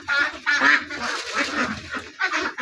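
A flock of Khaki Campbell ducks quacks loudly and close by at a duck-rearing farm. Nasal calls overlap in quick bursts with no pauses.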